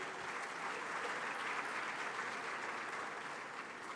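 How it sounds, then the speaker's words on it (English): Dense, steady audience applause filling a large hall at the Afreximbank annual meetings in Accra, Ghana, sustained evenly for the whole stretch, with no voices over it. "Dr. Kwame Nkrumah, a resounding round of applause to celebrate such a gallant"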